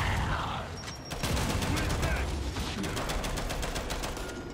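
Rapid bursts of gunfire from a Kantus weapon in the Gears 5 video game, a loud dense fusillade of closely spaced shots running for several seconds, with someone talking over the shooting.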